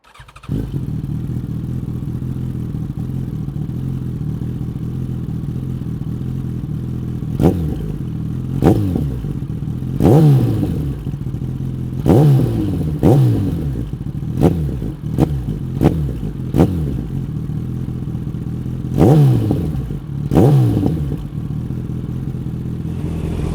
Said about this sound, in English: just so you can hear how crazy this exhaust is